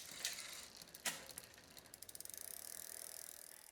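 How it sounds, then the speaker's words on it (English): A bicycle front derailleur shifting the chain up to the largest chainring gives a few sharp clicks, then a quiet, even run of rapid ratcheting ticks as the drivetrain turns. "Shift the front gears to the largest chainring."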